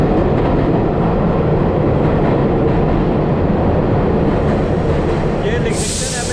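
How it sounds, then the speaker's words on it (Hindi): A New York subway train travelling from Brooklyn to Manhattan gives a loud, constant interior rumble and roar of wheels on track, steady throughout, with a higher hiss rising briefly at the very end. "अभी हमारी ट्रेन ब्रुकलिन से मैनहट्टन में जा रही है।"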